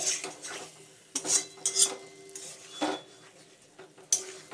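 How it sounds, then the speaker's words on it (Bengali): A spoon or spatula stirs fried meat with masala in a pan, giving scattered metallic scrapes and clinks in an irregular rhythm with a faint sizzle beneath, close and fairly quiet with no talking. "ভেজে রাখা মাংসটা দিয়ে মশলার সঙ্গে এটাকে ভালো করে কষাবো।"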